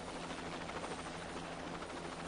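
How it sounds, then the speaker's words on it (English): Private Jet Ranger helicopter in flight, its rotor and turbine making a steady, dense wash of noise that stays even throughout, moderately distant and without talk. "This private jet Ranger helicopter, piloted by a Vietnam veteran, ferries the ample frame of Lord Hesketh"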